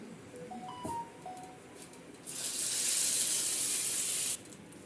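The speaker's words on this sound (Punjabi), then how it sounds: "ਹੁਣ ਇਹਦਾ ਲਾ ਦਾਂਗੇ ਆਪਾਂ ਤੜਕਾ" Hot mustard oil with curry leaves is poured over chutney for dosa and sizzles in a loud, bright hiss that surges for about two seconds, preceded by a few faint clinks in a quiet kitchen.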